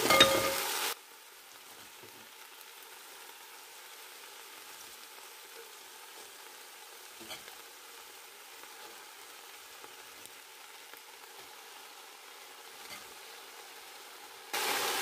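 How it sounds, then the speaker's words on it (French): Leek whites sizzling in a pot for a vegetable potée, a steady soft frying hiss that runs evenly throughout, with louder handling noises at the very start and end. "Donc là je vais ajouter les blancs de poireaux."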